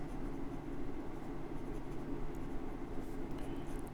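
A titanium piston-filler fountain pen, the MaJohn Moonman Ti500, with a fine steel nib scratches steadily across Clairefontaine 90 gsm paper in close, continuous strokes with no talking.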